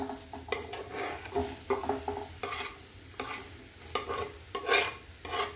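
Grated boiled potatoes are stirred in a pan with spices, a spoon scraping and knocking against the metal in uneven bursts over a soft sizzle, close and fairly loud, with no talking.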